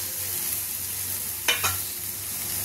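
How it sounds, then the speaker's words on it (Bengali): Paneer and spices fry in a pan under a constant sizzling hiss, broken midway by a quick pair of spatula scrapes, close and fairly loud with no talking. "এবার এর মধ্যে দিয়ে দিলাম মশলাগুলো"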